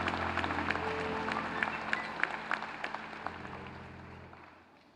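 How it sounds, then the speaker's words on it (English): Audience applause at a 2019 business school graduate commencement for MBA graduates, a steady wash of clapping with a few sharp claps standing out, fading at the end. "One more round of applause for the 2019 graduates of the full-time one-year"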